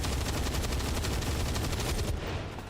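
Sustained rapid gunfire from a chain shot in XCOM 2, a dense burst of shots that runs loud and continuous for over two seconds and then cuts off sharply.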